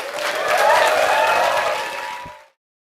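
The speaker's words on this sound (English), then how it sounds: "Let's give a big round of applause for Joseph McCarthy." Audience applause at a Startup Grind event, a steady wash of clapping from a crowd that swells, holds for about two seconds, then fades and stops abruptly.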